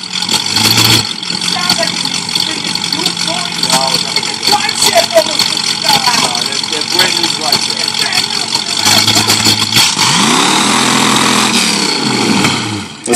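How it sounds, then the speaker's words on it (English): The 289 V8 of a 1968 Ford Mustang Fastback rumbles loudly and close by and rises into a rev near the end. People talk over the engine noise. "Give her a rev."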